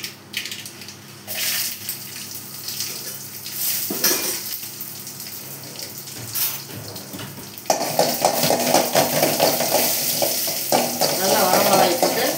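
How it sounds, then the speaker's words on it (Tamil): Dried red chilies frying in a pan for a Tamil potato fry, crackling sizzle under repeated stirring scrapes and clinks of a utensil against the pan, growing louder and denser partway through. "நல்லா வரமிளகாய் போட்டு நல்லா ஃப்ரை பண்ணிட்டு"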